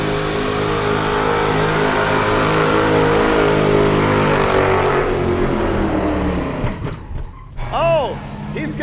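At a burnout pit, a race car engine holds a loud, steady high-rev drone for several seconds, then drops off and gives short sharp revs at the end, with faint voices mixed in.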